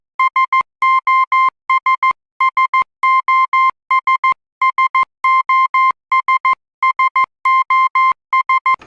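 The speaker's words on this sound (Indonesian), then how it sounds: "Jadi sinyal SOS itu merupakan sinyal Morse code." An SOS distress signal keyed in Morse code beeps as a clean electronic tone, with short and long pulses in repeating groups of dots and dashes, loud and steady with no other sound.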